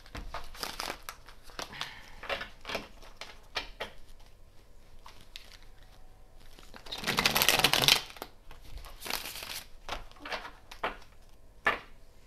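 Tarot cards being shuffled by hand, giving soft crinkling and riffling rustles in scattered bursts with one louder, longer flurry near the middle, close and fairly quiet, with no talking.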